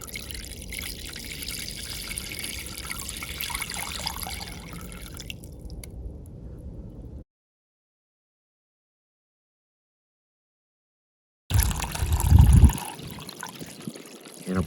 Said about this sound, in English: hot tap water.